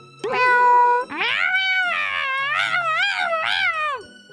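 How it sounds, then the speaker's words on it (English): A kitten in a yard meows several times in a row, loud and close, with drawn-out, wavering cries. "A kitten? Why is there a kitten in the yard? Meow."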